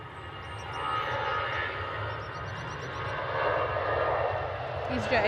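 An easyJet Airbus A320 jet departing for Lisbon, a steady, fairly loud engine roar and rumble that swells and holds, with talk likely mixed in underneath.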